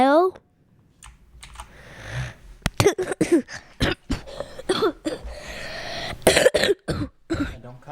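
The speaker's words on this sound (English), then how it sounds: "Don't cough in the microphone" Someone coughs repeatedly into a microphone in short, sharp bursts, mixed with sniffs and throat noises at close range.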